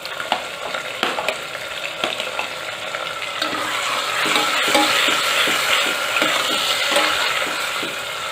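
Tomatoes tipped into a pan of frying chillies, ginger and garlic set off a loud, steady sizzle that swells after a few light clatters of a utensil, close up and without speech.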